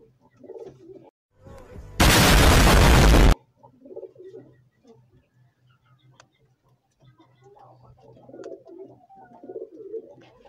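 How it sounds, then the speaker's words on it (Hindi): Soft pigeon coos repeat nearby amid quiet rustling, briefly interrupted by a loud burst of noise. "ये मेरा कबूतर है"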